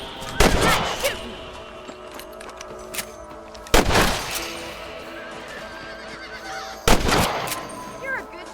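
Three sharp, loud gunshots crack out at spaced intervals while rabbits are hunted in the PS3 video game Red Dead Redemption, each followed by a short ringing tail and quieter ambient sound between them.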